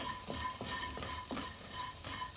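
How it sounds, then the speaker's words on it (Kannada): Edible gum frying slowly in ghee in a pan, a quiet, steady sizzle broken by soft, regular scraping stirs roughly twice a second, close and without speech. "ನಿಧಾನವಾಗಿ ಫ್ರೈ ಮಾಡ್ಕೊಳ್ಬೇಕು ಇದು ಗಟ್ಟಿ ಇರಬಾರ್ದು ಪೂರ್ತಿ ಪೊಳ್ಳಾಗೋವರೆಗೆ ಇದನ್ನು ಫ್ರೈ ಮಾಡ್ಕೊಳ್ಳಿ"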